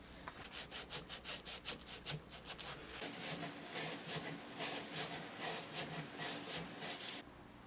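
Sandpaper rubs back and forth on the heel of a rosewood Telecaster guitar body, starting as regular rhythmic strokes and then settling into a steadier, continuous scratchy rasp, close and clear with no talking.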